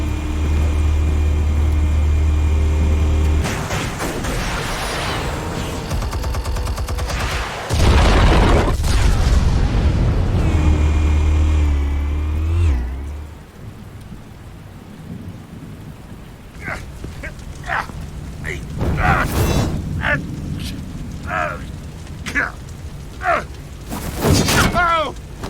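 Explosives detonate in Batman: The Telltale Series with heavy low booms and rumbling for about thirteen seconds. Scattered crashes and debris-like impacts follow, and speech comes through in places.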